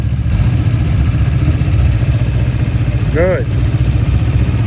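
Motorcycle engine held under steady light throttle during slow-speed riding drills in a Chicago practice session, a continuous low rumble throughout with a brief spoken word partway through.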